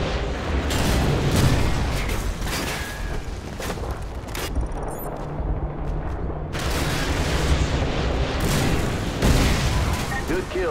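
Dense, continuous gunfire and explosions in Call of Duty: Modern Warfare 2, a loud, busy barrage of shots and booms, with voices over it.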